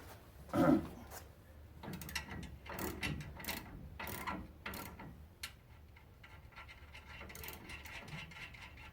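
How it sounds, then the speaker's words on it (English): A jam nut being threaded onto a towing part of a 2019 Ford F-150, heard as faint close ratcheting and metallic clicks with a brief louder clack near the start. "I'll go ahead and thread the jam nut on this one."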